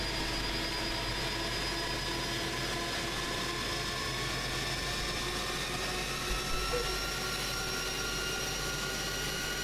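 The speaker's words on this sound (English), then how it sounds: "Gear down." Airbus A300 airliner in Microsoft Flight Simulator on approach with the landing gear lowering, heard as a steady jet engine whine with sustained tonal hum and a faint low thump near the end.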